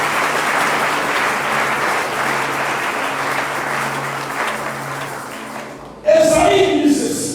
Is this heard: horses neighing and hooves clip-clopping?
no